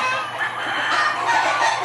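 A breeding-pen chicken clucks close by, with a dense, raspy run of calls and no talking.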